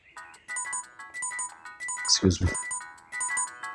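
A mobile phone's ringtone plays a bright, looping electronic melody in a Pakistani TV drama scene, repeating in short bursts. It stops briefly while a person speaks a few words, then resumes.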